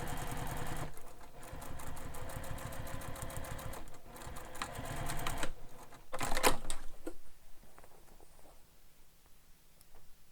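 Sewing machine top stitching a handbag at a longer stitch length, running in steady bursts with brief pauses, the motor hum and needle clatter close and fairly loud, then easing off and stopping near the end.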